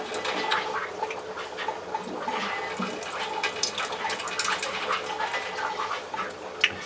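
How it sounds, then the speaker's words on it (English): The last of the water drains from a water heater tank as it empties, a steady gurgling, splashing rush that breaks into uneven spurts and gaps in flow, close and moderately loud. "We're starting to get some gaps as we get the last little bit of water out of the tank"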